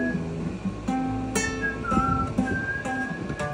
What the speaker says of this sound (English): is he whistling or someone else?